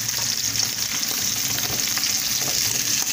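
Onion goes into a pan with already-cooked beef steak, giving a steady, loud sizzle and crackle of hot oil that runs without a break, with no one talking.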